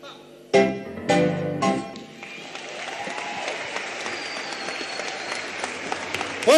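Audience applause for performers at a live Sunday variety show, opening with a few loud bursts of sound, then a steady, dense wash of clapping from a large crowd that continues to the end.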